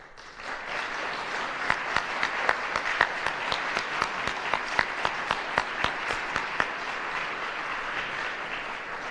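Audience applause at a city address in Jackson, Michigan, a steady wash of many hands clapping in a large hall with sharper individual claps and a few louder peaks, continuing throughout with no talk over it.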